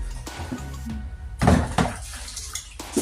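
Plates, glasses and spoons are washed and set down in a home kitchen, with scattered clinks and clatters over faint running water, some louder knocks near the middle and no speech.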